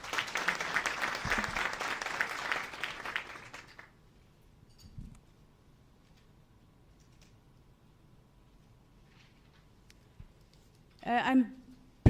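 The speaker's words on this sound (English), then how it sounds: "we really give them a round of applause" A conference audience at a business workshop for small enterprises breaks into applause for about four seconds, a dense crackle of clapping that then stops; a brief burst of sound returns near the end, with talk around it.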